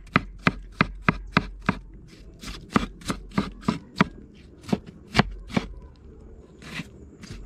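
Vegetables for a vegan stew chopped on a board outdoors, with a quick run of sharp knife strikes, a short pause, then more irregular chops, close and clear with no talk.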